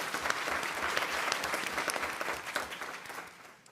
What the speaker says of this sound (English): So let's give those team members a round of applause.